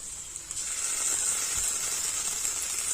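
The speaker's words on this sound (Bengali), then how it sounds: "পেঁয়াজ রসুন আদা জিরে শুকনো লঙ্কা সব একসাথে এবার কষাই করে নেব" A paste of onion, garlic, ginger, cumin and dried chilli frying over medium-low heat for a mutton curry, giving a soft, even hiss like steam, with a couple of light clicks and no speech.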